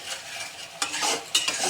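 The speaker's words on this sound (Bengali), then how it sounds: "এই তেলের উপরেই কিন্তু আমি আদা বাটার সাথে দিয়ে দিলাম" Ginger paste hits hot oil in a pan for Bengali-style chicken, giving a soft hiss with sharper bursts of sizzle and scraping as it is stirred, close and moderately loud.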